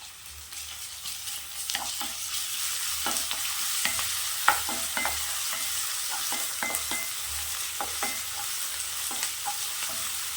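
Egg masala spice mix with ginger-garlic paste and turmeric frying in oil, a steady crackling sizzle with repeated sharp clinks of a spoon stirring against the pan, close up and without speech.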